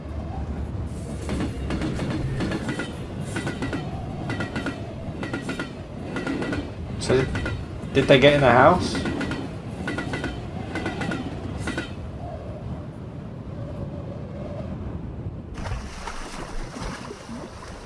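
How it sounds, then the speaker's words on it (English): A train rushes past inside a text-based indie adventure game, its rumbling clatter filling the scene and swelling to a loud peak midway before easing off, with a person talking over it. "The train."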